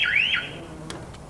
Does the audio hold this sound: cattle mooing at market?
no